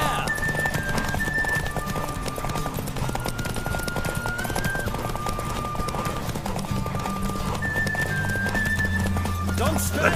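Roach the horse runs at full gallop in The Witcher III, dense quick hoofbeats throughout, loud and near, while a voice calls out over the pounding and background music.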